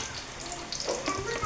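Banana pieces fry in a pan, giving a short, steady close-up sizzle with light crackling throughout.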